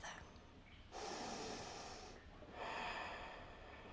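Deep breathing during a shoulder mobility yoga stretch: two slow, close breaths, each a soft airy rush lasting about a second, separated by a quiet pause, with no speech.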